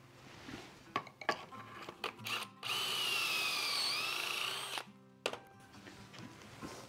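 A power drill with a special jig drill bit whines loudly for about two seconds while building a mitre saw bench, bracketed by clattering and clicking of tools and metal parts being handled.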